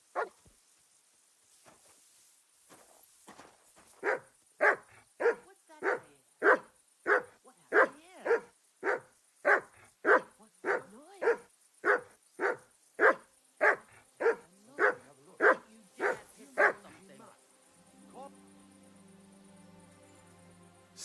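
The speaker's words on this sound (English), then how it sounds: "No one wants to hear you barking." A dog in the video game Kingdom Come Deliverance 2 barks in a long, steady series of about twenty loud, evenly spaced barks, ending in a softer whine.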